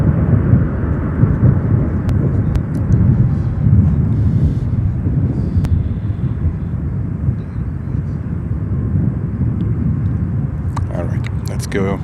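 A British Airways airliner roars past at Chicago O'Hare airport, a steady, heavy low rumble that fills the whole stretch with wind buffeting, fading slightly toward the end.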